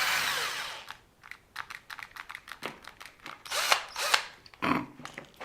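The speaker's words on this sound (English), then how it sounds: "So let's just do a few holes." A power drill bores a few holes in an RC car part patched with polymorph thermoplastic, short whirring bursts with pauses and clicks between them, close and fairly quiet.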